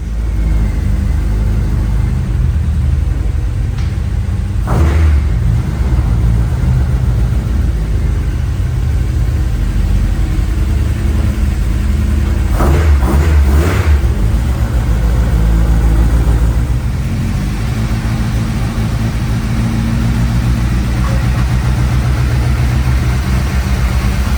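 A Honda Civic Type R EP3 with individual throttle bodies runs on a dyno, its engine rumble steady and loud throughout, with brief rises in revs near the start and middle.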